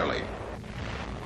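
A World War II VT-fused bomb with loose fins detonates early, a short, loud blast that rolls into a dense rumble.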